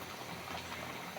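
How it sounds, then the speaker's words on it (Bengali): A rohu fish and eggplant curry simmers with a soft, even bubbling for a moment as the fish goes in. There is no talking. "এটাই এখন আমরা মাছ দিয়ে দিচ্ছি"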